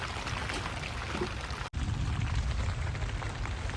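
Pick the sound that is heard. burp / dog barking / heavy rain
heavy rain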